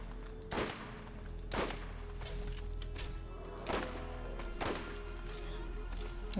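Rapid gunfire bursts from Borderlands 1 erupt in several sharp volleys over a steady low game hum, moderately loud, with no talking.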